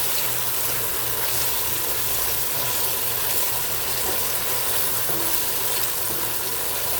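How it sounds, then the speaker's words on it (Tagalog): Tomato paste sautéing in a pan for corned beef sinigang, a steady, even sizzle and frying hiss that runs unbroken throughout, with faint stirring and no talking. "Lagyan natin tomato paste at gisahin natin maigi yung tomato paste."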